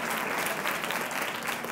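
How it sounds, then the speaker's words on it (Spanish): An audience applauds primary school teachers at an education talk, a dense steady burst of many hands clapping together at close range. "Un aplauso para los de primaria, muy bien."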